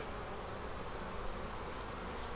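Honey bees swarm thickly around an open beehive during an inspection, their dense, steady buzzing filling the space close by without a break.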